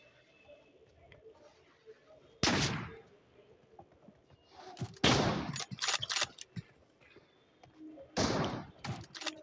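Loud bursts of video game gunfire, three separate heavy volleys spread across the stretch, with faint quieter sounds between them.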